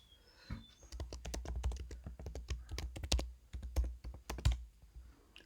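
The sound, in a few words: computer keyboard typing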